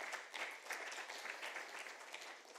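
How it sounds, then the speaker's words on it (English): An audience at the QS Africa Forum 2023 gives a round of applause: dense, steady clapping from a large crowd that fills the whole stretch at an even level and tapers slightly at the end. "a round of applause for you all as well"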